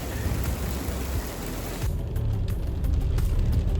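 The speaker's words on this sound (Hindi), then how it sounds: "बारिश हो रही है, ओले पड़ रहे हैं" Heavy rain with hailstones pelting a car during an off-road drive, a dense roaring patter throughout with sharp scattered ice hits cracking against the vehicle in the latter half, close and loud.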